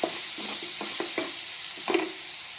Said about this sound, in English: Also added 50 gram butter and fry nicely.